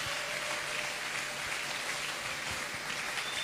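Crowd applause at a French-language church gathering, a steady dense wash of clapping hands sustained throughout, no voices above it.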